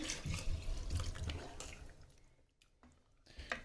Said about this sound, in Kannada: ಇದಕ್ಕೆ ಇವಾಗ ನೀರು ಸೇರಿಸ್ಕೊತಾ ಇದ್ದೀನಿ.